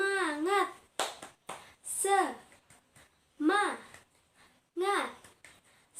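Schoolchildren in a class do a rhythmic spirit clap, sharp bursts of hand claps alternating with a teacher's sung chant in short repeated phrases, fairly close.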